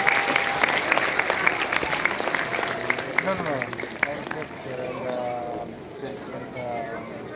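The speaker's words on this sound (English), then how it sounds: "A round of applause, please, for all our dignitaries." Audience applause greeting dignitaries as they are called to the dais at a live event, dense and sustained throughout with a crowd murmur and a voice speaking over it.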